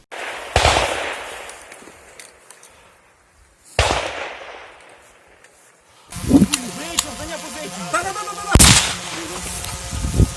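Gunfire rings out during an assault training battle, with sharp single shots echoing at a distance and then a denser stretch of rapid bursts and loud cracks, while voices talk in the background.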